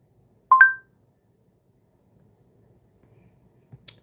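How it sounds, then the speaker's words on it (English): Jail phone call connecting tones: a short pair of clear electronic beeps in near silence, followed later by a faint click. "Tory Lanez jail phone call."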